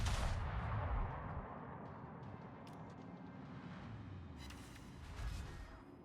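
Naval gun shells firing in the World of Warships video game: a deep, continuous rumble of battle with heavier booming salvos near the start and again toward the end, loud and without talk.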